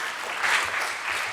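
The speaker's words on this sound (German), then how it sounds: "A big applause." Audience at a science talk show event gives a brief round of applause, moderately quiet and a little distant, a short burst of many hands clapping without speech.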